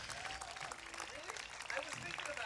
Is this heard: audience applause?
yes